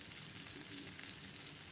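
Chicken masala roast fries in a pan while being stirred, producing a dense, continuous sizzle that stays close and even throughout, with no talking.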